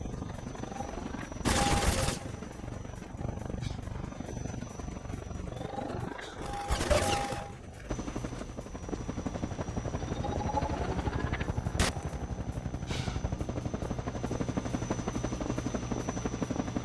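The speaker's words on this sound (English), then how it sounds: "The helicopter is following me again" A helicopter in the Half-Life 2 video game drones loudly and steadily as it follows the player, its rotor roar continuous, with two bursts of gunfire or explosions near the start and a sharp impact later.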